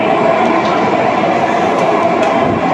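Mumbai's Aqua Line 3 underground metro train runs at speed through its tunnel, a steady, loud, continuous rumble and rail roar with faint clatter throughout, no voices.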